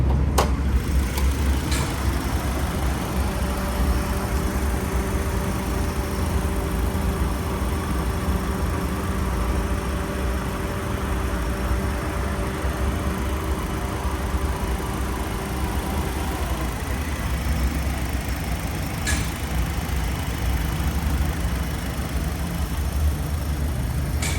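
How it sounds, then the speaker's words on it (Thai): A Honda Accord G8 Mugen engine idles smoothly and evenly, a steady low hum with a faint tonal whine heard up close for a long stretch. "เครื่องยนต์เดินนิ่มเรียบนะครับ"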